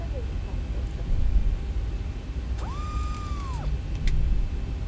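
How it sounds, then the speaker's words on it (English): Airliner spoilers retracting after landing in the X-Plane 12 flight simulator: a smooth mechanical whine rises, holds steady for about a second, then drops away, over a constant low rumble of engine noise. "That's the sound of the spoilers going down."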